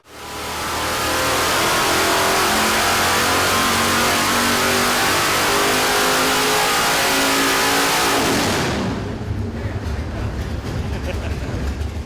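A Dart 440 small-block V8 running Holley Dominator EFI revs hard on a dyno, holding a loud, sustained high-rpm roar for about eight seconds before dropping back to a rumbling idle.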